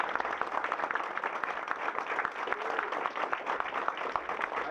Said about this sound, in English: I want to give all of these students a round of applause